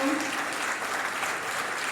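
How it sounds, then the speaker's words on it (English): Audience applause at a school district celebration evening, steady dense clapping filling the hall for the full two seconds with no voices over it. "let's give them another round of applause"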